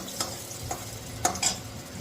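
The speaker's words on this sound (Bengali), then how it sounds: "তো এদিকে আমার বেগুন ভাজাও হয়ে গেল" Brinjal slices frying in a pan sizzle softly while a spatula stirs them, with a few light scraping clinks over a low, steady sizzle.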